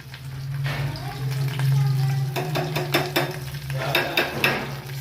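Brinjal frying in oil in a pan, a close sizzle and hiss with clatter and stirring in the second half, with a low hum underneath and no clear talk.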